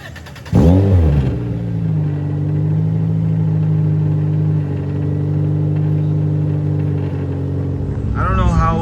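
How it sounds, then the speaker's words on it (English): A Nissan Sentra engine drones and rumbles steadily at close range, with a rough exhaust rattle that swells and eases throughout. "this damn exhaust rattle needs to go badly"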